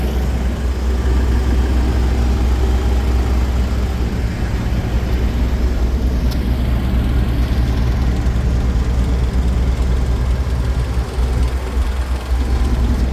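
A refrigeration unit on a 2012 Mitsubishi reefer truck runs with a loud, steady, low engine drone that holds unchanged throughout with no voices.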